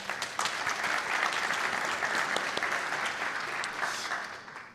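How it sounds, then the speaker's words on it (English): A conference audience on the main stage at EU Space Days claps for a minister, sustained, moderately loud applause with scattered sharper claps that tapers off toward the end. "Another round of applause for our Minister"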